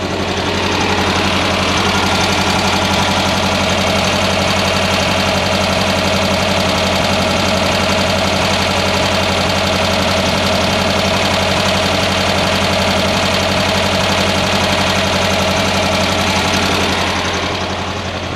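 An air-cooled Volkswagen engine fitted with a Weber carburetor runs steadily at idle, a loud, close, continuous rumble with an even knocking pulse that fades slightly at the end.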